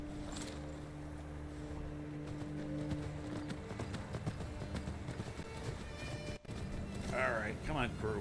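Video game horse hooves clip-clop in a steady, quick rhythm under continuous game music and a voice talking, with a brief dropout near the end.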